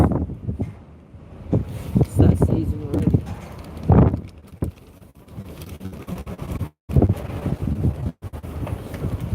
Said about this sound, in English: This wind is getting feistier and feistier.